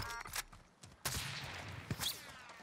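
Video game gunfire in a close-range firefight, a few sharp bursts and scattered single shots of moderate loudness, with a louder volley in the middle.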